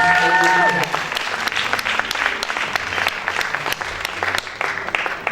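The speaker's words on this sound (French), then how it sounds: "Vous pouvez applaudir Sophie Guillaume, deuxième dauphine" At the Miss Aisne 2020 pageant results, the audience applauds the second runner-up with a full, sustained burst of clapping, following a brief tail of music at the start and with sporadic voices mixed in beneath.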